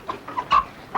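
A chicken clucks close by in a few short, nasal bursts, the middle one loudest, without any voices.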